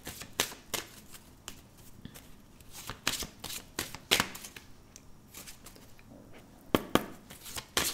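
Deck of tarot cards being shuffled and cut by hand, a steady run of crisp riffling flicks and slaps close up, with a few sharper snaps standing out, no voices.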